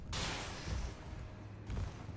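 A furnace pot bursts in the Elden Ring video game, a loud broadband blast that fades into a rumbling tail, followed by a second, slightly weaker burst near the end.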